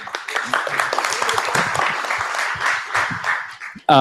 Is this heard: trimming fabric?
no